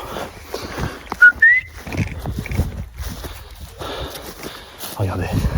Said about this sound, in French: Je siffle, il revient.